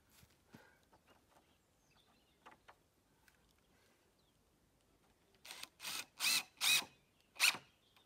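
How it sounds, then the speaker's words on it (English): Cordless drill driving screws into timber while a raised garden bed is built at an off-grid vegetable garden in Italy, a series of four or five short loud whirring bursts after quiet handling sounds. "Drill, screw."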